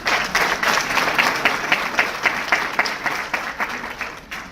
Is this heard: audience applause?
yes